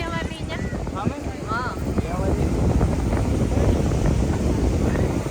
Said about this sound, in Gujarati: પવન એકદમ બહુ મસ્ત આવે પાણી નજીક છે